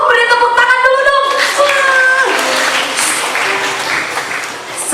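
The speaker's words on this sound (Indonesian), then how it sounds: "beri tepuk tangan dulu dong" Children at a church revival service clap as the sound fades in, with an adult voice heard over the start, then the applause settles into a steady, fairly loud patter that thins toward the end.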